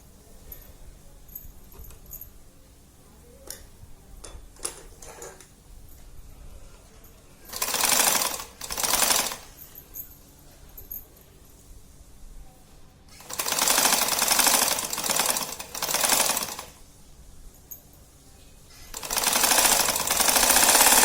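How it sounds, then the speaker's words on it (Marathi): A sewing machine stitches cut fabric pieces for a clutch purse in three separate loud, rapid bursts of chattering, with quiet pauses and faint handling noises between them. "जे तुकडे आपण त्याचं कापलेलं असतं ते असं मध्यभागी ठेवून असं सरळ शिवून घ्यायचं"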